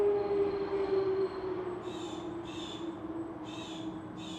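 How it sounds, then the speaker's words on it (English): Birds squabble nearby in a series of harsh, repeated calls, about four short bursts spaced roughly half a second apart, over a steady background hum and noise. "these birds. Oh my God, they're at war with each other."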